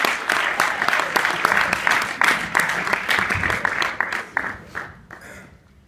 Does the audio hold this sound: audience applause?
yes